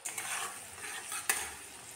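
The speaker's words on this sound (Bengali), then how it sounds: "এবার ভালো করে ভেজে নেব গ্যাসের ফ্লেম মিডিয়ামে রেখে" Chopped garlic, ginger and green chilli fry in oil over a medium gas flame, a soft continuous sizzle with stirring scrapes and one sharper clink, quiet and close.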